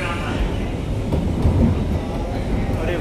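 Delhi metro train starting to move, a steady low rumble and rising mechanical hum heard from inside the carriage, continuous and moderately loud throughout.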